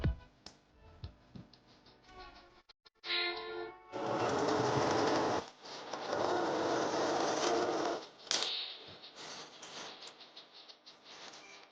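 A sewing machine stitches fabric from an IKEA blanket being made into a jacket. Short whirring runs give way to two longer stretches of steady stitching, with pauses and small clicks between them, close and fairly soft, with no talking.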